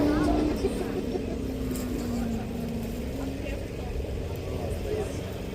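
A cross-country racing car climbs the Craigantlet hill climb, its engine a steady, droning roar at moderate distance with a slowly shifting pitch, and a faint voice may sit beneath it.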